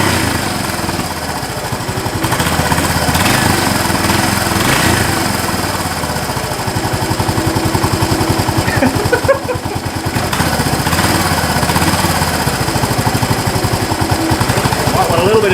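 Up close, a Yamaha SR250 single-cylinder motorcycle engine runs at a steady idle with a rapid, even thump throughout, running partly on choke.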